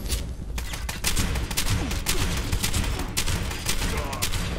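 Assault rifle fire in Fallout 76 comes as a loud, sustained barrage of rapid shots with dense booming noise throughout, heavy and continuous.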